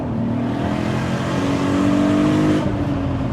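A 502 bhp VW Golf V6 4Motion on full boost, its engine revving hard with a steady rising drone that holds strong, then eases slightly near the end, loud and close with no talk.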